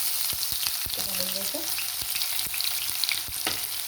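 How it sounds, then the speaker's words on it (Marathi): Chopped onion frying in hot oil with mustard seeds and cumin: a dense continuous sizzle with soft ticks and pops of stirring, no talk. "कांदा मस्तपैकी तळून घ्यायचा आपल्याला."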